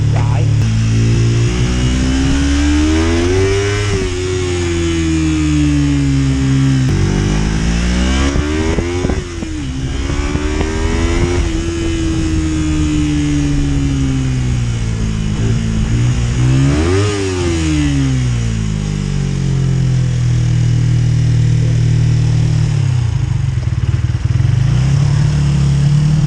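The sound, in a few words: engine running with idle set too high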